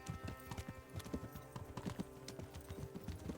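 Horse hooves clip-clop in Kingdom Come: Deliverance, a steady rapid trotting rhythm of many close, crisp hoof strikes over a low rumble, with no talk.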